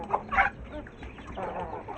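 A hen clucks close by in a poultry yard, two quick short clucks followed by a softer trailing murmur.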